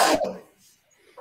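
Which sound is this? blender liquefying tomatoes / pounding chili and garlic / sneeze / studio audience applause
sneeze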